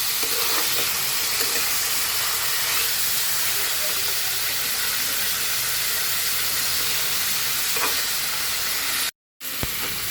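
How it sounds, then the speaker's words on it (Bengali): Chopped food frying with onions in a pan, a loud, continuous hiss and sizzle close by, with a brief cut to silence near the end. "আমি এখন এটাকে একটু ভালো করে কষিয়ে নেব এই পেঁয়াজের সাথে"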